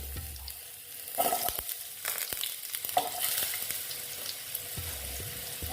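Potatoes frying with panch phoron in a pan, a faint sizzle with intermittent stirring and scraping clatter, fairly quiet and close with no talk.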